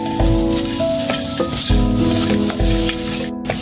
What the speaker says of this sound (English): First, I will fry the scraped peels of the ridge gourd until the color of the ridge gourd changes.